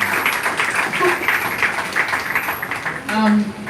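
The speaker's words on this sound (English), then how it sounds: "Please can we give her a round of applause as she comes?" An audience at a live business event in Africa applauds a speaker as she comes up, with steady clapping under a voice that talks over it, ending in a louder burst.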